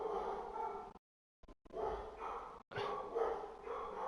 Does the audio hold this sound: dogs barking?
yes